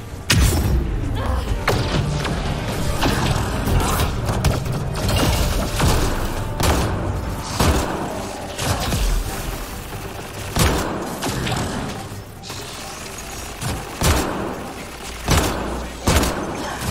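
Repeated gunshots from a weapon loaded with incendiary ammo in Mass Effect Andromeda, steady thumping bursts with booming impacts, loud and close, with little talk.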